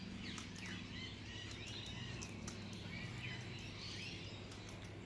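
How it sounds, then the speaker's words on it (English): Birds around a backyard feeder, including cockatoos, with repeated chirps and swooping calls over a steady background hum, fairly faint and continuous. "Birds are just waiting their turn."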